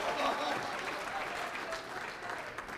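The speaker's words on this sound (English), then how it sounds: "Give them a huge round of applause." Applause from the audience at a black tie gala, sustained, dense clapping from a crowd, fairly loud and even with slight swells, no clear speech over it.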